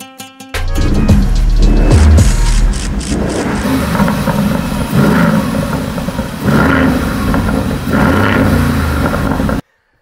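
An Aston Martin Vantage F1 Edition with an automatic paddle-shift gearbox and carbon fibre prop shaft starts up, then settles into a loud, deep engine idle with a few rising blips of revs, close by, until it cuts off abruptly.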